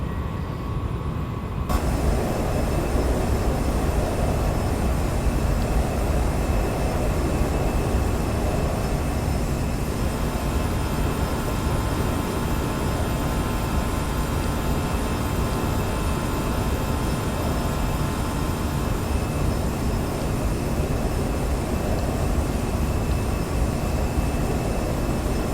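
An Airbus A320 airliner in the X-Plane 10 flight simulator cruises at 15,000 feet, producing a loud, unbroken cabin roar and engine drone with a faint steady whine that lasts the whole clip.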